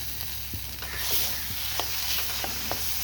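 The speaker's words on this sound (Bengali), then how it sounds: "এবার হলুদ দিয়ে আমি ভাজি" Chopped tomatoes and spices fry in oil with turmeric, giving a soft steady sizzle beneath a few light scrapes and taps of a spoon stirring in the pan.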